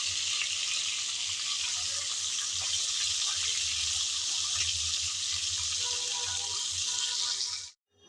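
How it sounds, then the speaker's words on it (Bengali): Fish heads deep-frying in hot oil for a jackfruit-seed dish, giving a steady, loud, dense sizzle with a low bubbling rumble that runs unbroken for about seven and a half seconds before cutting off abruptly. "কিছুক্ষণ সময় নিয়ে মাছের মাথা আমি ভালোভাবে ভেজে নিয়েছি"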